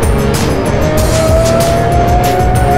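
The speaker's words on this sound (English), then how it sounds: "actual F1 sound. Super high pitched, like, it sounds like it's revving to 11." A loud, high-pitched racing engine screams continuously, its tone climbing steadily as the car passes close by.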